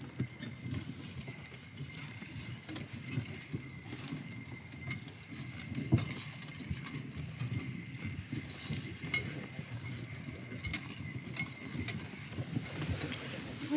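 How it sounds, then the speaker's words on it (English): Sleigh horses clip-clop through snow in Leavenworth on a snowy sleigh ride, their soft, steady hoof beats continuing at a moderate distance over faint background murmur. "until I get the horses secured"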